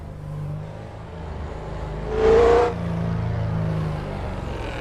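A car engine revs hard in a short, loud burst that rises and falls, then settles back to a steady engine hum on a canyon road.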